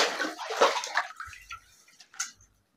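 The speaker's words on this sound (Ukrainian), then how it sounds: "3 часа дня, а у нас в комнате потоп." Water splashes and sloshes through a flooded room as someone wades about, a close run of broadband splashing that fades into a few softer, scattered swishes and drips.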